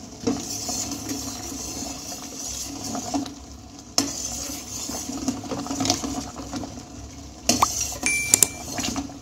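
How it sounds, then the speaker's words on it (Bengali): Sugar syrup with date palm jaggery bubbles in a pan on a kitchen stove, giving a steady soft sizzle. Stirring scrapes and occasional metallic clinks of a utensil against the pot sound close by. "দেখুন আমার চিনির রসটা ফুটতে লেগেছে।"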